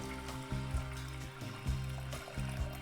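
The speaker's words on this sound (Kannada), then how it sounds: "ಇದಕ್ಕೆ ಬೇಕಾಗುವಷ್ಟು ನೀರು ಹಾಕ್ಕೊಳ್ಳೋಣ" Water poured into a pressure cooker over washed lentils in a home kitchen, a soft, steady trickle and splash with a few gentle surges, faint and close, with no voices.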